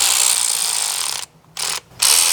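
A ratchet snugging up engine intake bolts, giving close, loud, rapid clicking in quick bursts with two brief pauses between them.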